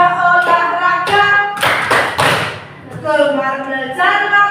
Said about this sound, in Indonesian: Begini tepuknya.